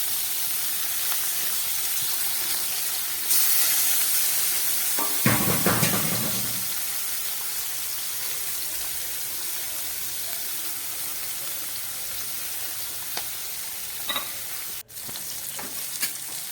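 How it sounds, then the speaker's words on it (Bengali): Fish sizzling in hot oil in a wok, a steady loud frying hiss throughout, with a brief burst of spattering crackle and a few clinks of a utensil. "কড়ার মধ্যে তেল গরম করে এবার মাছগুলোকে আমি ভেজে নিচ্ছি।"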